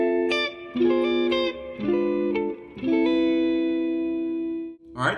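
Electric guitar with effects plays a neo-soul chord lick with approach notes, several strummed chord groups with bright sliding notes, ending on a long sustained chord that fades out.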